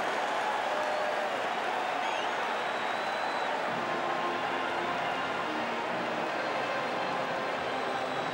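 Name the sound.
stadium crowd of 80,000 roaring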